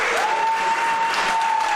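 Crowd at a Limitless Wrestling event in Enfield, Connecticut reacts loudly with clapping and cheering, a dense, continuous wall of noise with a steady whistle-like tone running through it.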